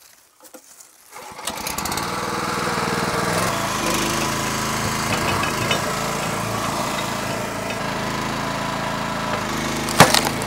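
A Split-Fire 3490 log splitter runs loud and steady as it splits firewood rounds, its small engine droning after a quiet start, with a sharp crack near the end.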